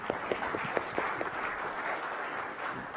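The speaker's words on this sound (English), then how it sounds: "Applause for Jonathan." Audience applause for a keynote speaker at a technology conference, steady broadband clapping from a large room with a few sharper individual claps standing out, continuous for the whole stretch with no voices.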